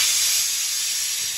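Steam jets from the whistle of a pressure cooker cooking dal in one continuous, loud, close hiss with no other sound over it.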